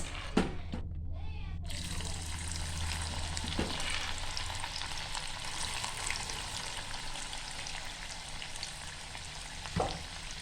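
A second batch of dal deep-fries in hot oil with a continuous, even crackling sizzle held at steady volume, plus a few faint clinks from the utensils.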